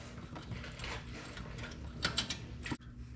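Caliper stud being threaded into a Porsche 911 rear hub, quiet close ratcheting and metallic mechanism clicks with a few sharper ticks before stopping abruptly.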